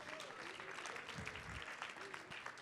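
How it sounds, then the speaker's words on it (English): Audience applause at a Chicago gala, faint and distant, a soft wash of clapping that continues evenly with a few murmuring voices mixed in. "Let's give Bertina a big round of applause."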